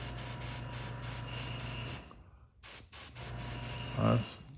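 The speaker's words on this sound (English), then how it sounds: "we're just getting it shot through the airbrush here anyway, just to see how it looks" Airbrush spraying paint in short hissing bursts, a steady spray broken by a brief pause before resuming, heard up close.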